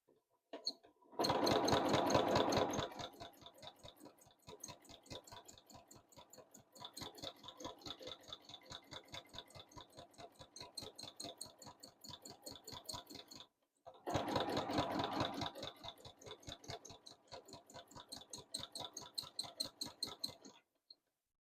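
Domestic sewing machine running free motion quilting, close and fairly quiet, with two fast bursts of rapid stitching separated by steadier slower runs and a brief pause, no talk.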